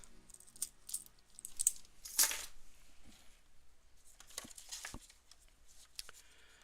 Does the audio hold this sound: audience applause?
no